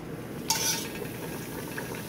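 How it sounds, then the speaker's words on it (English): Toast lowered into oil heated to 350 degrees, a sudden sizzle on entry that settles into a steady low frying crackle, fairly faint and close. "you're going to let it fry for about a minute on each side"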